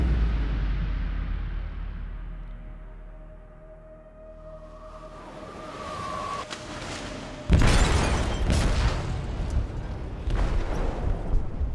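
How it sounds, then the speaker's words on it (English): A detonated explosive goes off in a ship's hold in Detroit: Become Human: after a low rumble, a sudden loud broadband blast hits, followed by heavy crashing and roaring debris that keeps going to the end. "They detonated an explosive in the hold."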